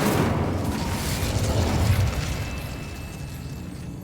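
An Incendio fire spell in Hogwarts Legacy goes off as a loud, rumbling blast that roars at once and then slowly fades over a few seconds.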